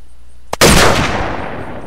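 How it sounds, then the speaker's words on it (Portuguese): A sniper rifle fires one loud, sharp shot in the video game Unturned, with a brief click just before it and a long booming tail that slowly fades, no voices over it. "Eu achei essa sniper muito top, essa aqui, ó. Olha o barulhão que ela faz."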